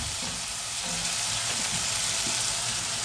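Vegetables frying with tomato paste in a pan, a steady loud sizzle and crackle throughout, close and uninterrupted with no voices.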